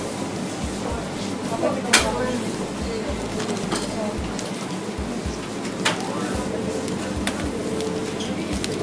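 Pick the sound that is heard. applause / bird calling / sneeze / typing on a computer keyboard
bird calling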